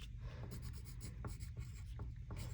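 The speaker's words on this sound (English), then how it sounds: "I'm writing my first name" A pen writes a first name on paper before printmaking, close and quiet. Short strokes and scratches come in an uneven rhythm.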